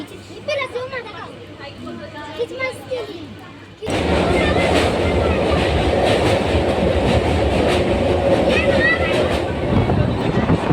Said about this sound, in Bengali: এই যে ট্রেন ছেড়ে দিয়েছে।